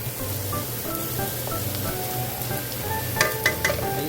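Onion fries in a pan for Pork Binagoongan with a continuous close sizzle, broken near the end by a few sharp crackling pops.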